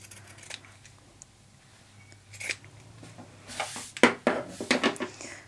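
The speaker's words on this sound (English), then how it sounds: "you can just create the same effect using a small pair of scissors" Small scissors snipping triangular notches into the curved seam allowance of fabric for a phone bag, a scattering of soft, quiet clicks that grow into a denser cluster of sharper snips toward the end.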